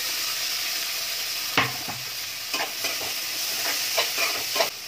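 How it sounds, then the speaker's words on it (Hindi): Tomatoes tipped into a pan of sizzling onion and garlic: a steady hot frying hiss with several sharper clatters and bursts as pieces drop in and get stirred, close and loud, no talking. "सो प्याज और लहसुन मेरा पूरा अच्छे से जो है बन गया है, मतलब पक गया। अब मैं डाल रही हूँ यहाँ पे टमाटर"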